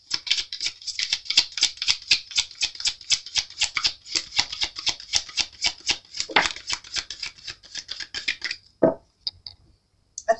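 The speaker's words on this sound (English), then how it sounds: "I'll just shuffle these." Tarot cards being shuffled by hand in rapid riffling bursts of crisp flicking and snapping, close and fairly quiet, with a brief pause and a final tap near the end.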